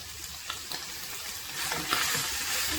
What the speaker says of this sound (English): I started to mix all of them together, and this had to be mixed rather well